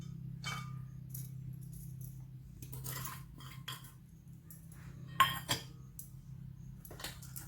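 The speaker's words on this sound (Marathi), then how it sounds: "आता आपण याच्यात हे कोबी घालत आहे" Shredded cabbage is tipped into poha in a pan and mixed, producing sparse metallic clinks and scrapes of a spoon against the pan, quiet with a couple of sharper knocks over a low hum.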